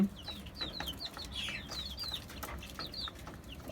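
Native Bangladeshi chickens on a rooftop farm cluck in short, repeated calls, fairly close and alone against a faint background.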